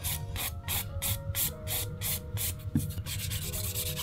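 Nail file rasping across a fingernail near the cuticle area and over the top of the nail, a steady run of quick back-and-forth rubbing strokes, close and fairly loud.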